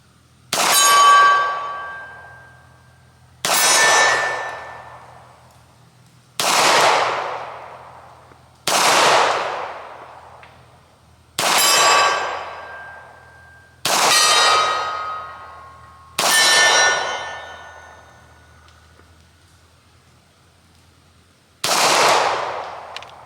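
Seven pistol shots from a Walther P4, each followed by the loud ringing clang of a distant steel target, fired at steady intervals of a few seconds with a longer pause before the last.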